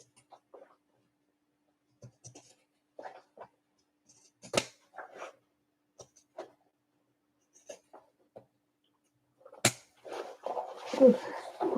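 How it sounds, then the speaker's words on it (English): Pinking shears snip through thick fabric on a sewn tote bag, giving a sparse series of sharp, isolated cuts close up and fairly quiet, with a brief rustle of cloth near the end. "these pinking shears. I love what they do, but man, they sure do hurt to use on like thicker stuff."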